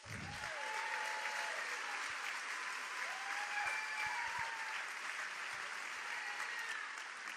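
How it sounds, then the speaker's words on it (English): Steady applause from a sizable crowd at an election integrity forum, loud and sustained throughout with a dense, even clatter of clapping. "Everybody give them a round of applause."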